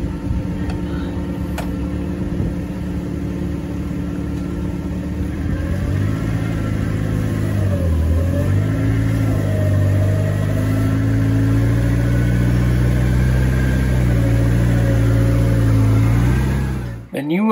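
Newly installed Mercury 150 HP four-stroke outboard engines run at a steady idle, giving a continuous low, humming drone that holds even for most of the stretch and then cuts off abruptly at the end.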